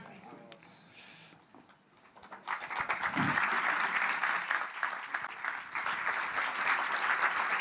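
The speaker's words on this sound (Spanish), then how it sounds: "Fuerte el aplauso" Applause from a church audience after a prayer, starting after a quiet moment with a few stray claps, then swelling into steady, loud clapping that carries on to the end.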